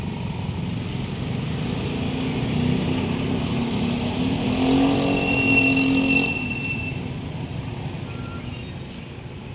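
Busy early-morning car traffic on Maginhawa Street in Quezon City, a constant rumble of passing vehicles with brief squealing brakes and a rising engine surge near the end.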